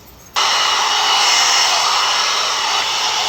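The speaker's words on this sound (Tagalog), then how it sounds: "So, blower natin yung hair natin guys" A hair dryer, used as a blower on someone's hair, switches on abruptly and then roars steadily at close range with a loud, constant whoosh of air.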